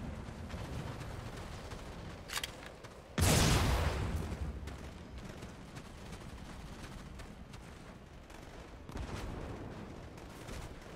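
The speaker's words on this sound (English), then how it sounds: "Forgot all about them secondary explosions." Secondary explosions in Halo 2 Anniversary team slayer multiplayer: a single loud blast rolling into a rumbling roar, with scattered gunfire and smaller booms before and after amid constant combat noise.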